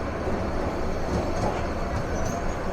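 Panchagarh Express pulling out of Tongi railway junction in Bangladesh at night, giving a steady, close, loud rumble of wheels and carriages with no talk.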